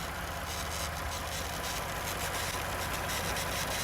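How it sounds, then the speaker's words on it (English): A 3.5L EcoBoost V6 in a 2017 Ford F-150 idles hot after an engine swap, a steady low rumble with continuous broadband hiss, unchanging throughout and heard alone. "now listen to the engine."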